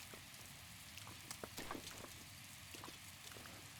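Steady in-game rain from Zelda: Breath of the Wild falls as a soft, even hiss with scattered droplet taps, holding at a constant low level throughout with no voices.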